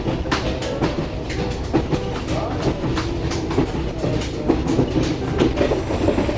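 A Safari passenger train coach rolls steadily along the rails with a continuous rumble and repeated clickety-clack wheel beats over joints, heard from inside the carriage.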